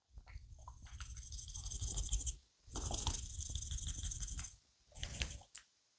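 Bursts of rapid rattling and sloshing as a small bottle of hot pepper extract is shaken three times, close and fairly quiet, separated by short pauses, ending with a sharp tap.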